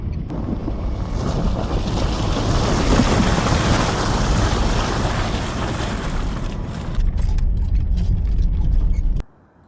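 A 4x4 Astro van on BFGoodrich tires shifted into four-high pulls away, with sustained loud engine and drivetrain rumble mixed with wind buffeting across the whole stretch before the sound cuts off abruptly near the end.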